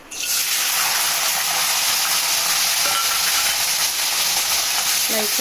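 Loud, steady sizzling of spices and onions frying in hot oil, starting abruptly and continuing without pause, with faint stirring clinks.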